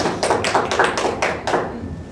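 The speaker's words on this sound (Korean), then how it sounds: "박수 한번 쳐줘," A small church or study group audience claps briefly after a sermon point, about six distinct broadband hand claps in a loose, uneven rhythm, fairly close and moderately loud with no talking over them.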